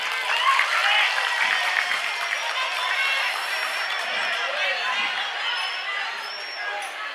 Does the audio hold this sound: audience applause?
yes